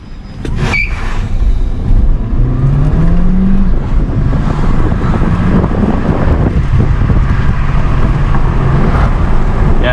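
A 2016 Audi A3 e-tron plug-in hybrid drives and accelerates, its engine note rising under loud road and wind noise in a continuous, close recording.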